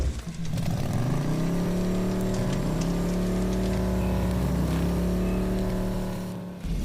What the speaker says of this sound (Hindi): उस व्यक्ति ने मोटरसाइकिल को खेतों की पगडंडियों से ले जाते हुए उन दोनों को एक सुनसान सड़क पर छोड़ दिया